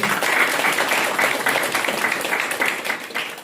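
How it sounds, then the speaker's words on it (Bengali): An audience at a Bengali land-deed distribution event in Goghat breaks into sustained applause, a dense wash of clapping from many hands that stays loud throughout and tapers slightly at the end. "একটু হাততালি দিন প্রত্যেকে।"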